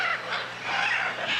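A dense, continuous clamor of bird calls, honking and squawking together like a noisy flock of fowl, steady and fairly loud throughout.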